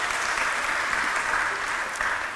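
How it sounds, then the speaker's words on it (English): A lecture audience claps together in a dense, sustained burst of applause, even and fairly close, with no voices rising above the clapping. "So please, another round of applause."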